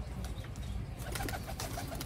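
Young Sialkoti pigeons give low, soft cooing calls, faint and close, with light scratching and rustling around them.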